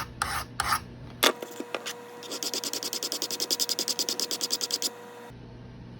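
A CRKT M-16 knife blade drawn across a sharpening stone, a brief bout of rasping strokes followed by a rapid run of rhythmic back-and-forth scraping, close and alone.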